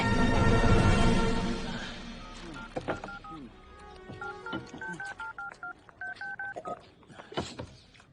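A rapid series of telephone keypad tones, short beeps at shifting pitches, follows a loud noisy burst at the start.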